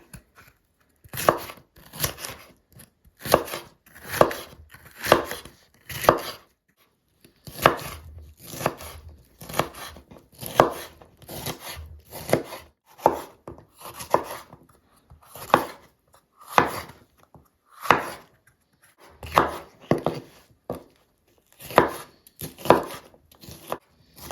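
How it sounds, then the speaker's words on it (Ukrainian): Bell pepper being chopped into small pieces with a knife on a board for Ukrainian borscht, fast bursts of crisp rhythmic strokes with short pauses between, close and clear. "Далі нарізаємо перець невеличкими шматочками."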